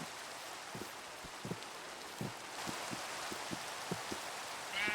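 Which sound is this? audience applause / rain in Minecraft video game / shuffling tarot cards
rain in Minecraft video game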